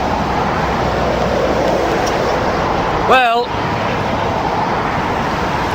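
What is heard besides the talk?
road traffic near M6 Sandbach service station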